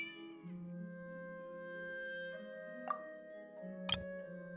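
A cat meows in a video game: a sustained, harmonic meow with two short sharp accents near the end, loud and close with no talking.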